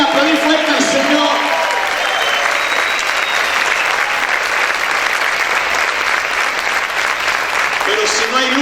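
A church congregation claps loudly and steadily in a dense, sustained wave of applause, with voices briefly audible at the start and end.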